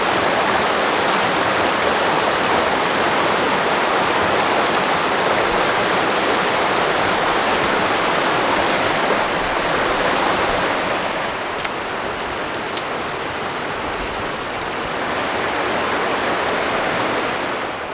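Creek water rushes steadily and loudly at a trail crossing on the Mountains to Sea Trail in Great Smoky Mountains National Park, a dense, unbroken close-up roar that barely shifts over the whole stretch.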